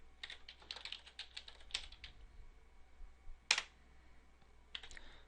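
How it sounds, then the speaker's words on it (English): Quiet clicking of computer keys in bursts, with a sharper, louder keystroke near the middle like the enter key, recorded close up while entering text into a spreadsheet cell. "then typing and pressing enter"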